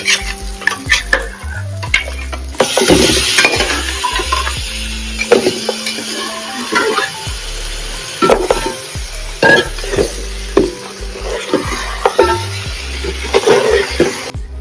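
Mutton paya biryani masala sautés loudly in a pot, a continuous sizzle broken by frequent scraping and clanking of a spoon against the metal.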